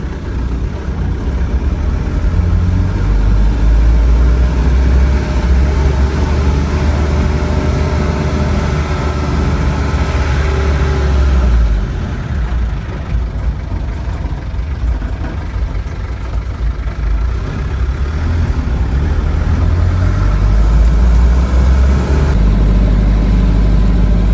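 Ford B250 van engine running, a steady low rumble that stays close and loud for the whole stretch, eases slightly partway through, and has no voices over it.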